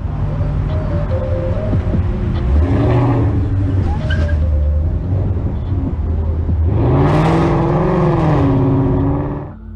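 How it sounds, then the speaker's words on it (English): A Ford Mustang engine revs up and down in a police chase, loud and close. The pitch rises in two strong surges of acceleration and drops off briefly in between, with some faint voices underneath. "with the Mustang driver slowing down and speeding up again"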